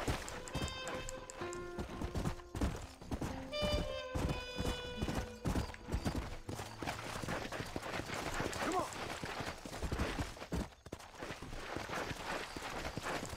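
Horse hooves clip-clop steadily in Red Dead Redemption, a brisk rhythmic trot over game music with tonal chimes early on, a neigh or whinny now and then, and someone talking over parts of it.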